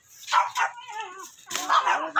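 Several dogs bark and yip in short bursts close by outdoors, sharp overlapping barks with a brief whimpering tone between them and no talking.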